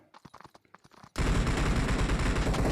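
Gunfire in the PUBG Mobile video game erupts abruptly after a second of soft rustling and becomes a loud, dense, sustained burst of rapid automatic shots.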